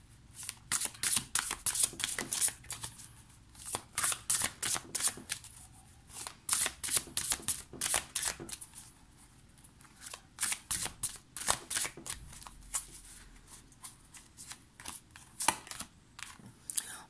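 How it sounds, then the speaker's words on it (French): Tarot cards being shuffled and drawn by hand: a long run of rapid, crisp riffling and flicking bursts in quick uneven bursts, close and fairly loud, with short pauses between handfuls and no talking. "Hop, je vais prendre 2 cartes."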